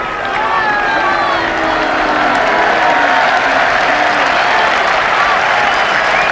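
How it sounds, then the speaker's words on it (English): A big cricket crowd at an Ashes Test match applauds a 50 partnership, with steady, dense clapping and cheering that holds loud and even throughout, and a faint commentator voice underneath. "this big crowd giving vent to their feelings"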